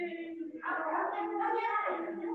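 A dog barks and yips in the background of an online English class, a steady series of mid-distance barks filling most of the clip, with a voice briefly audible at the start.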